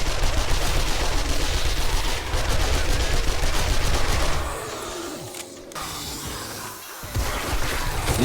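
Fast, continuous 9mm gunfire in the 7 Days to Die video game, a loud rattling stream of shots that thins out midway, then returns after a brief lull.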